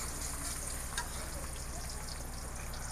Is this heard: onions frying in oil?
yes